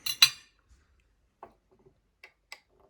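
Cheese is cut with a knife on a plate, producing a couple of clinking scrapes at first, then sparse light taps and clicks of metal on ceramic in a quiet room.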